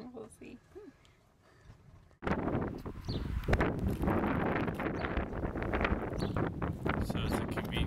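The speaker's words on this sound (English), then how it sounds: "Can't build a fire. It's too windy." Strong gusty wind roaring and buffeting outdoors in Utah, loud and continuous after a quieter start, with low rumbling rush throughout.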